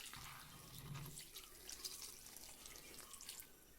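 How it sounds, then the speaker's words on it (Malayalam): Water is poured onto a freshly repotted plant, making a faint, quiet trickle with soft splashes and drips. "ആവശ്യത്തിന് വെള്ളം ഒഴിച്ചു കൊടുക്കാം."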